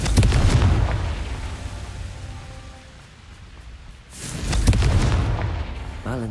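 Explosions from the Confringo blasting spell in Hogwarts Legacy on PC: a loud booming burst that fades to quiet, then a second heavy blast a few seconds later with crackling debris.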